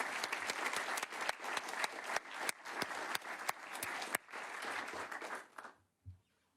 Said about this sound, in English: Let's give him the round of applause he deserves.